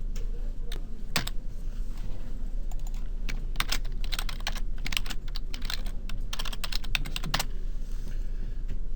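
Rapid clicking keystrokes on a computer keyboard as a folder name is typed, steady and close, with irregular bursts of key presses and no voices.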